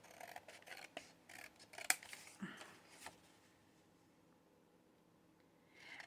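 Scissors trimming the edge of a glued paper craft: a quick series of crisp snips and paper rustles, close and fairly quiet, fading to near silence before a last faint sound.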